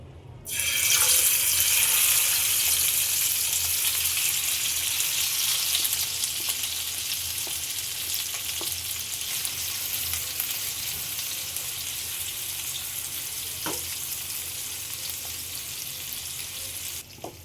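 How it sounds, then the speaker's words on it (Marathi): Marinated prawns dropped into hot oil for dry prawn masala, a loud sudden sizzle that starts at once and holds as a steady close crackling fry throughout, with a few light taps. "आता आपण ही जी मॅरिनेट केलेली कोलबी आहे ती आपण तेलामध्ये टाकत आहोत"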